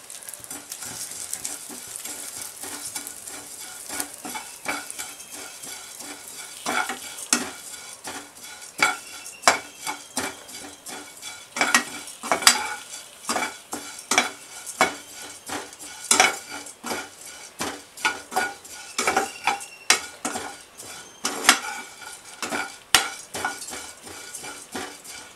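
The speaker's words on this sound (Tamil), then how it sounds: "அவல் வறுத்துக்கிறேன்" White flattened rice (aval) is roasted in a pan and stirred, with a continuous dry sizzle and frequent close metallic scrapes and clinks of a spoon against the pan, irregular and busy, with no talking.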